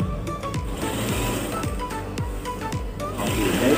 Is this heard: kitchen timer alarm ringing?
no